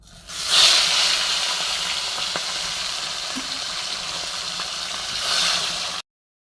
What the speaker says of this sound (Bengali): নুন হলুদ মাখানো মাছ আমি কড়াই ছেড়ে দেবো